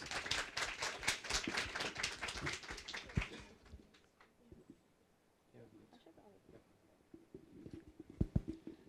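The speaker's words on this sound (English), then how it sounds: "Big round of applause." Audience applause in a packed conference room at the opening of an APR-IGF session: dense, loud clapping for about three seconds, then dying away into quiet room noise with scattered claps.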